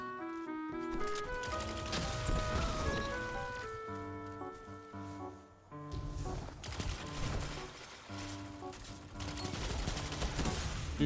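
Gunfire in a shooting video game crackles in rapid bursts and scattered shots over a background of game music, moderately loud throughout.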